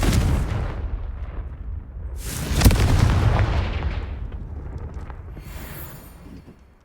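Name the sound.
Confringo explosion spell, from video game Hogwarts Legacy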